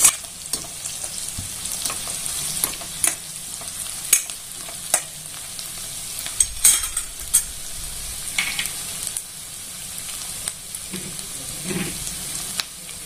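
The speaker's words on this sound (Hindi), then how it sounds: "इसको हमें गोल्डन ब्राउन होने तक फ्राई करना है" Ten to twelve garlic cloves frying in oil until golden brown for a pizza topping sauce: a continuous close sizzle with frequent crackles and spatters and occasional stirring scrapes, with no talking.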